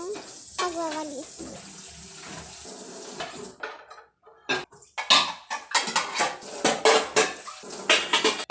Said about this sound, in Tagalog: samahan mo ako magugas ng pinggan at magluto muna